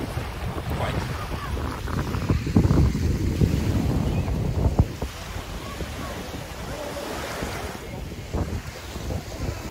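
Wind and waves at a beach in Bulgaria, a steady rushing roar of surf with heavy wind buffeting the microphone, louder for a few seconds before settling into an even wash.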